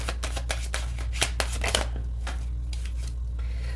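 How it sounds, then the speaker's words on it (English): A deck of tarot cards is shuffled close up during a reading. The rapid, riffling flutter of cards runs steadily and then thins into a few softer slides near the end, with no talking. "Let's just shuffle one more time."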